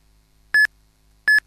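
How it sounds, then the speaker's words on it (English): Two short electronic beeps from a farm drone alert the operator, evenly spaced about three quarters of a second apart, clean and fairly loud against a quiet background. "it alarms the agent with a beep sound"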